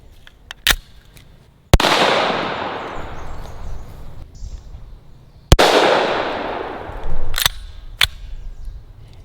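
CCI .44 Magnum No. 9 shotshells fired from a handgun outdoors, several sharp reports: two loud main blasts with long ringing decay plus a few smaller pops, no talking.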